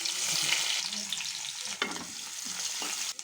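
Cumin and tempering seeds fry and sizzle in hot oil for a tomato, green chilli and egg curry, with a continuous crackle broken by scraping stirs.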